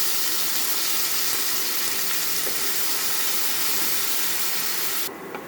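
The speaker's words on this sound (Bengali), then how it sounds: "এবার এটা ভালো করে ভেজে নেব।" Onion paste, ginger paste and tomato fry in a pan with a loud, steady, close sizzling hiss that stays even before dropping off briefly at the end.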